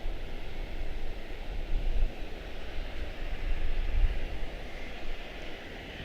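A departing airliner at Charlotte-Douglas International Airport gives a deep, distant engine roar that rises and falls, a broad rumble with no voices over it.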